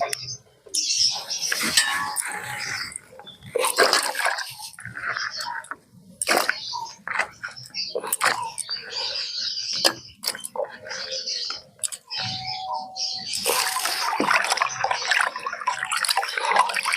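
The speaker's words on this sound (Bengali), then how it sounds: "এবার ভালো করে জল দিয়ে ধুয়ে নিচ্ছি।" Cut pieces of elephant foot yam are washed by hand in water, with irregular splashing and sloshing bursts that pause and resume, and faint chirps in the background.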